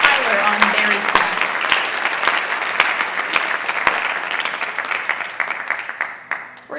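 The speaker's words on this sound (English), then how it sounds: "So can we give another round of applause for Paul on tenor sax, and Blaine on trumpet" Audience at a high school band spring concert claps for the horn soloists, a loud, dense round of applause with sharp individual claps standing out, thinning slightly toward the end.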